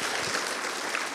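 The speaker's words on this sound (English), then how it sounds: "let's give applause to everybody who's new here today." An audience at a patient day event applauds to welcome newcomers, with a short burst of dense, steady clapping filling a large room.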